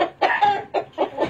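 A Dong Tao chicken, a rare breed with very thick, rough legs, gives several short, raspy clucks in separate bursts, close and fairly loud, with no talking.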